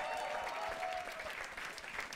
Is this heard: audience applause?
yes